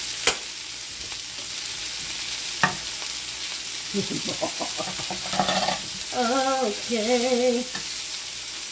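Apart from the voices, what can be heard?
Brussels sprouts sizzling in a pan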